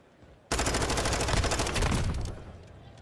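Wall bang gunfire from Call of Duty during a Call of Duty League Major tournament match between Seattle Surge and Atlanta FaZe: a loud, dense automatic burst that starts abruptly and rattles on for about two seconds before easing off.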